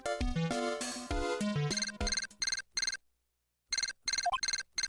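A transceiver rings in the Phoenix Wright: Ace Attorney video game, with bright electronic ringtone bursts in a repeated pattern, a short silent gap, then more bursts. The ringing is loud and close, with no voices.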